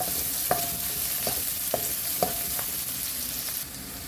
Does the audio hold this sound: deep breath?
no